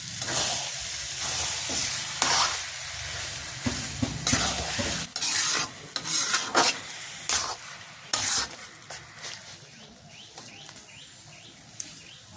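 Taro leaves cooked with hilsa fish simmer and reduce in a pan, giving a steady close sizzle with repeated stirring scrapes and clatters, the bubbling fading somewhat toward the end.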